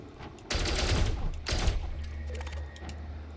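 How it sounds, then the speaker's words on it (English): A ship's turret fires in Elite Dangerous during materials farming, giving rapid bursts of loud, crackling shots in two main volleys over a steady low engine hum. "We'll use the turret."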